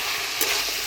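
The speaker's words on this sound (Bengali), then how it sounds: "ডালের বড়িটা দিয়ে ভালো করে নাড়াচাড়া করে নিই" A spatula stirs fried lentil dumplings (bori) with vegetables in a hot pan in a village kitchen, a short close burst of sizzling with a soft scrape.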